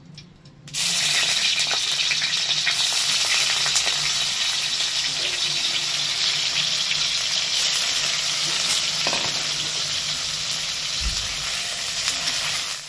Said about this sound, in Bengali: ফুলকপি তোলার পর যে তেলটা আছে ওই তেলের মধ্যে আমি হালকা করে পনিরগুলোকে ভেজে নেব